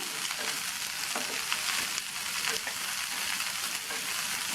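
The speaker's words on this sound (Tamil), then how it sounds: "இதை இதில் சேர்த்துட்டு இந்த எண்ணெயிலேயே பீன்ஸை 2-3 நிமிஷத்துக்கு நல்லா வதக்கிக்கணும்" Green beans sautéing in oil with onion and green chilli give a steady, even sizzle throughout, with soft scattered ticks and crackles and no voices.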